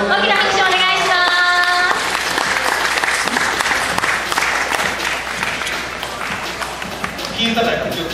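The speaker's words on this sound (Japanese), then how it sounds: "皆さん大きな拍手お願いします" Applause from the audience at a pop culture festival stage in Kobe, loud sustained clapping while a voice speaks and music plays briefly over the start.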